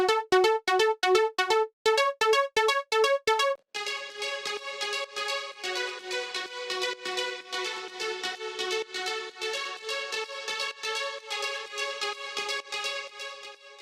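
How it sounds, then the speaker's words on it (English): A synthesizer in FL Studio plays rapid repeating progressive house arpeggio notes, first in short staccato bursts with gaps, then a continuous rhythmic pattern with richer tone. "Let's hear ARP."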